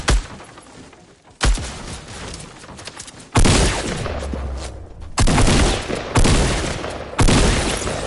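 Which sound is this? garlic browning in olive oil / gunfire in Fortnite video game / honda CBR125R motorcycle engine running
gunfire in Fortnite video game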